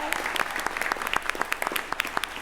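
Applause at a school board meeting honoring a state champion hurdler, a steady crowd of hands clapping with sharp individual claps standing out, sustained across the whole stretch with faint voices mixed underneath.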